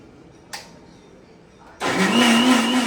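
After a short click and near silence, a mixer grinder grinding masala with coconut roars into action, whirring loudly and steadily up close until the end.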